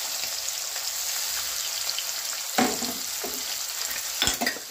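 Crushed garlic, green chilies and onion frying in a pan over gentle heat, a soft continuous sizzle broken by a couple of sharper scraping stirs toward the end.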